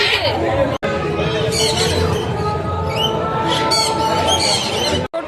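Small caged birds at a bird fair in Kolkata squawk and chatter in shrill bursts close by, layered over a busy crowd and a voice talking.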